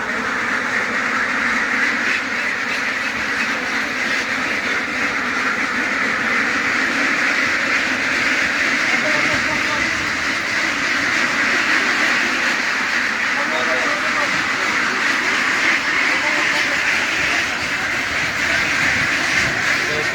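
A flock of about 700 ducks quacks as a dense continuous chatter, loud and close, with a constant hissing bed and occasional voices mixed in.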